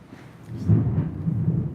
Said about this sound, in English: Some rain out there